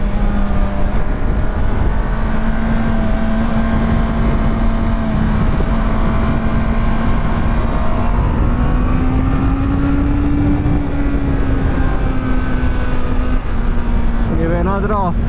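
A 2025 Honda CBR 650R motorcycle engine drones steadily and loudly while riding, its pitch gently rising and falling with throttle over continuous wind rush, with a brief higher rev near the end.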